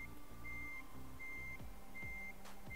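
In Euro Truck Simulator 2, a truck's reversing alarm repeats a steady beep-beep pattern at regular intervals over a low engine rumble, fairly faint and without talking.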